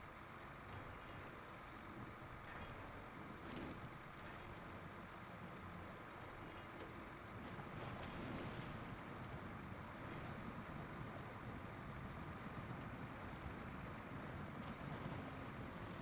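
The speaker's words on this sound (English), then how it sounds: "Driving through the water and hearing the water sound making me thirsty" In a video game, a vehicle ploughs through water, giving a soft, continuous watery rush and swash that stays low and steady throughout, with no voices over it.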